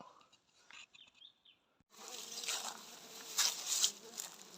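Bees swarm around a large wild honey nest, starting with faint intermittent buzzing that swells at about two seconds into a dense, continuous drone that stays close and steady to the end.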